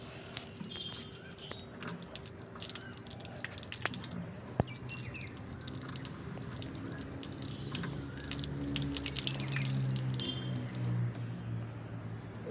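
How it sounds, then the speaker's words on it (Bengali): Running water splashes and drips steadily over a mango being washed by hand, a continuous wet trickle with small squishy splashes throughout. "চলো আমটাকে এখন আগে ধুয়ে নিই"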